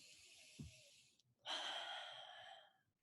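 One slow, deep breath during a relaxation exercise: a long airy inhale, a short pause, then a fuller breathy exhale, close and alone.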